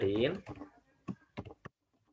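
Computer keyboard typing while writing Python code: a few short, crisp key clicks in a quick cluster right after a brief spoken phrase, with quiet gaps between them.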